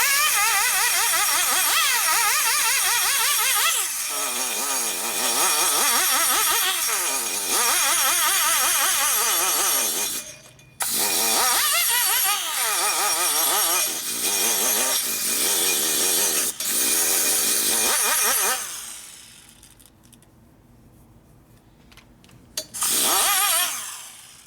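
A fine sanding roll on a rotary tool blends a welded case on a 1992 Harley-Davidson 80ci Evo Softail engine. Loud, close, continuous whirring grind with short pauses, then a quieter stretch before the tool resumes.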